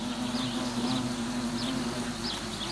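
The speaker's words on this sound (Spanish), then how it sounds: "Así, capa tras capa, las avispas van ampliando sus celdillas." Wasps at their paper nest, shaping paper pulp into new cells layer by layer, give off a steady, close insect buzz that holds evenly throughout with no voices.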